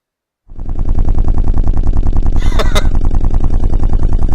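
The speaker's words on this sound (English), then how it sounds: "I guess that noise is the scooter." Scooter engine in the video game Hatoful Boyfriend, a loud, steady, rapid putter that starts abruptly and runs evenly throughout, with a brief higher squeal partway through.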